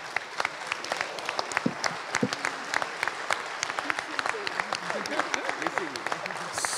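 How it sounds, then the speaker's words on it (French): Warm, sustained applause from an audience at an award ceremony, steady and even with individual claps standing out and a faint murmur of voices underneath. "vos chaleureux applaudissements"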